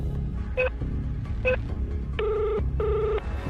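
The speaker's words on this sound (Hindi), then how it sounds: "नमन ने जेब से तुरंत फोन निकाला और ध्रुव को फोन मिलाया" A phone rings out as a call is placed, two short trilling rings followed by two longer ones in a steady repeating pattern, clear and close, over a low hum of background music.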